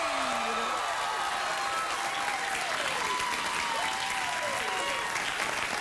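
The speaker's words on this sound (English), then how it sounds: "just do the wild, real applause when I walk out" A late-night television studio audience applauds and cheers in a continuous wash of clapping while a voice speaks over it.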